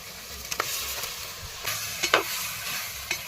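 Chopped country chicken fries quietly in peanut oil with mustard seeds, curry leaves and ginger-garlic paste, a soft continuous sizzle broken by scraping stirring strokes, with no talk.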